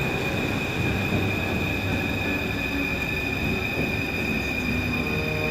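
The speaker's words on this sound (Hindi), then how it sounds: "और ये है मेट्रो ट्रेन पेरिस की।" A Paris metro train rumbles steadily at close range, with a high squealing tone from the wheels and constant mechanical noise throughout.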